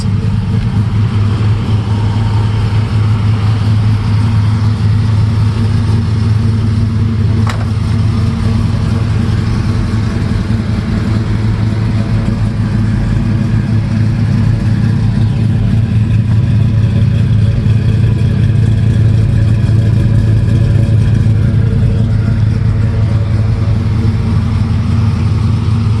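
A 1973 Camaro Z28 with a 383 stroker V8 idles loudly and steadily, a deep continuous rumble with slight rises in revs, close by and alone.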